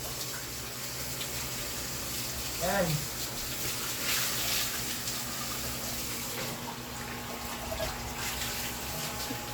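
Water runs steadily from a tap, a continuous hiss through the whole stretch, with people talking nearby and a brief voiced sound mixed in.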